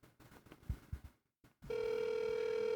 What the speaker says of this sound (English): Still ringing because it's that phone in that ditch because they tore it down.